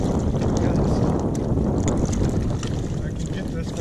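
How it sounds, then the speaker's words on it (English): A gust of wind of about 8 knots while hydrofoiling on the water, heard as a loud, steady rush of wind buffeting the microphone along with water noise. "Feel a gust coming in."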